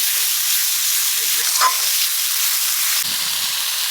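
Katla fish spices of salt, turmeric, chilli powder and cumin fry in oil with a steady close sizzle, a brief stirring scrape midway and a soft clunk near the end.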